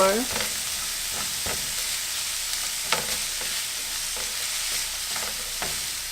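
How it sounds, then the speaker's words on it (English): Seasoned jackfruit sizzles in a hot pan while a utensil stirs and scrapes through it, with several distinct scraping strokes over a constant close frying hiss. "I'm going to stir this up just a little bit more."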